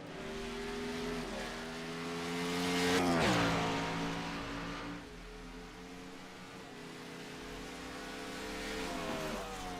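Race cars lapping the Mid Ohio circuit in a BRRL Left & Right 30 race: steady engine drones with rising and falling pitch. One car surges past up close midway, then the engines settle into a more distant, continuous hum.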